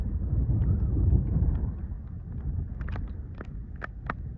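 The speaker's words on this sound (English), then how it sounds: "I hope you guys can hear me with the wind." Gusty wind buffets a microphone outdoors in Nome, Alaska, a loud low rumble that eases after a couple of seconds, with faint scattered clicks and taps above it.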